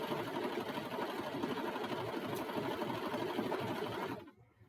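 A sewing machine stitches a waistcoat with a rapid, steady whirring chatter close by, running continuously before stopping abruptly near the end.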